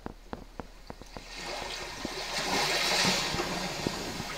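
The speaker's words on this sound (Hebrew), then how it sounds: "יש אנשים שאוהבים להירגע עם קולות של ים." Ocean wave ambience plays through the audio system of a Genesis GV80, a soft surging wash of surf that swells toward the middle, with a few sharp clicks early on.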